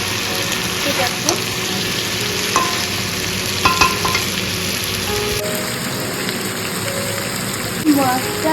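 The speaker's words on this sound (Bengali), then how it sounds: "মাছটা মশলার সাথে খুব সুন্দর করে কষানো হয়ে গেছে।" A large stingray fish stirred and fried with spices in a pan, with a dense continuous sizzle, occasional spatula scrapes and clinks, and a steady close hiss throughout.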